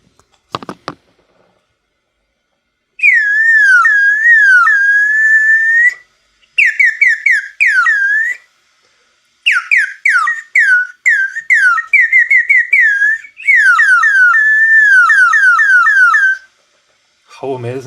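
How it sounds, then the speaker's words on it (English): A 3D-printed water bird whistle, filled with about 10 ml of water, warbles in close, loud bursts of trilling birdlike song. Several separate phrases come one after another with short gaps between them. "when you blow into it like a whistle, it sounds like a real bird"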